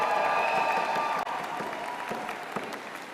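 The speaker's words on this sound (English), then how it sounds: "the members of the graduating class, to reciprocate by applauding your family, friends, faculty and staff" Graduating class at an SFU convocation ceremony applauding their families, friends, faculty and staff; dense, steady clapping from a large crowd fills the hall, with a brief dip partway through.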